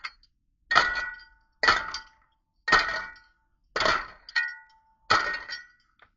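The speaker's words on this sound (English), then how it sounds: "We get all of our meat into the bowl, and we stir it with our spoon." A spoon stirring meat in a bowl, heard as five separate, evenly spaced clinks of metal on the bowl, close and clear, with silence between strikes and no talk.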